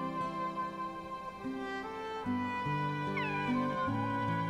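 A cat meows a few times in Kingdom Hearts 2, the meows rising and falling over soft game music.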